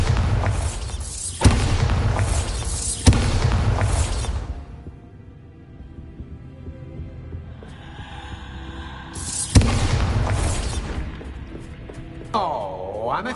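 Booming spell explosions in a wizarding school adventure game, heavy blasts with whooshing tails, several loud bursts separated by quieter humming stretches and a falling tonal sweep near the end.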